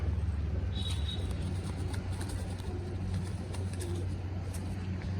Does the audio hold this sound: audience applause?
no